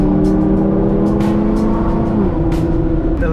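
A 700-horsepower Nissan GT-R with a loud aftermarket exhaust drives a canyon road, its engine a loud, steady close-up roar with a rising note near the end and brief higher bursts.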